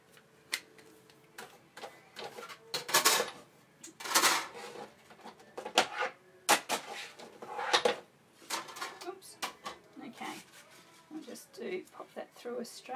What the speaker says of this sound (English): I'm just going to pop that through my Big Shot with the basket weave embossing mat just to give us a little bit of interest.